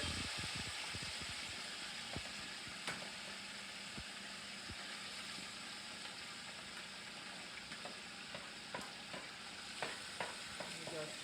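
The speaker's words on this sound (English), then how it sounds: "I'm going to fry it for a few minutes." Salted seafood frying in hot oil for a soup, a constant close hiss with soft crackles and occasional spatter pops, a few light clicks near the end.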